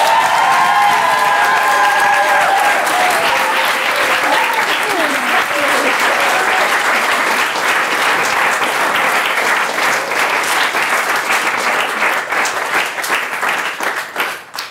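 A live studio audience at a German comedy show applauds loudly and continuously, with faint cheering mixed into the dense clapping. The applause stays strong and then tapers off toward the end.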